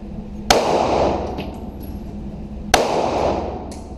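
Two sharp, loud handgun shots fired one-handed at target practice, roughly two seconds apart, each with a short echoing tail.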